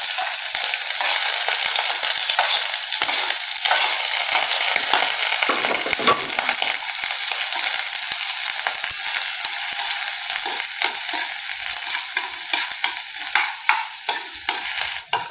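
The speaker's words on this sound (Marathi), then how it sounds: "आपल्याला यामध्ये एक कांदा उभा चिरून घेतलेला आहे तो टाकूया" Finely chopped garlic and vertically sliced onion fry in hot oil in a pan for a vermicelli dish, a loud, steady sizzle with a spatula scraping and stirring throughout.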